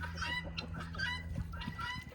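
Backyard chickens clucking and squawking close by while being thrown treats, a busy overlapping chatter of short calls over low background rumble.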